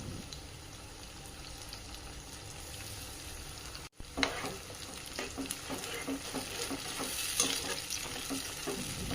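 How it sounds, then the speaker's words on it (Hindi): Chopped onions and tomatoes fry and get stirred in a pan for a poha dish, a steady sizzle with scraping stirs that grows busier after a brief pause midway, no voices. "जब प्याज थोड़ी सॉफ्ट हो जाए इसमें हमारे चॉप किए हुए टोमेटो डालकर इसे थोड़ा हिलाएंगे।"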